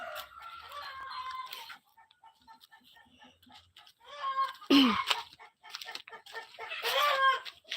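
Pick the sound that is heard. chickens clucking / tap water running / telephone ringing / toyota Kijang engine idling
chickens clucking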